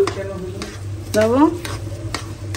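Food frying in a pan at home is stirred with steady scraping strokes over a constant sizzle, close and fairly loud, with a brief voice heard.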